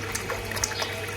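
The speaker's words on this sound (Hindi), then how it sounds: "अब इनकी बारी, इनको भी पानी डालते हैं।" Water splashes and trickles from a container into drinking bowls for caged pet birds, a faint, steady pour with small splatters and no voices.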